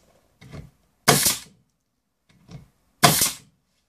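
An SCN45 coil nailer drives 1.5-inch nails, each shot a sharp, loud pneumatic bang with a short hiss, the two main shots spaced about two seconds apart with quieter knocks between them.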